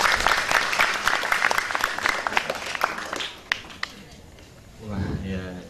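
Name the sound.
audience applause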